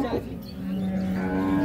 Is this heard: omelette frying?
no